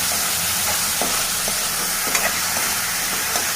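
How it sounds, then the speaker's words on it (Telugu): Salt and turmeric are stirred into a raw banana curry in a pan, a continuous loud sizzle with regular scraping strokes of the spoon about every half second, no voices. "ఉప్పు పసుపు వేసి బాగా కలుపుకోవాలి."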